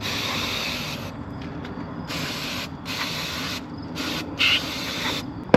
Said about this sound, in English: You're just supposed to spray in there, clean all over it.